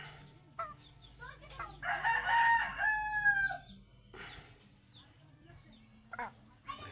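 Rooster crowing once in a drawn-out call, with scattered clucks from chickens around it, fairly close in a quiet yard.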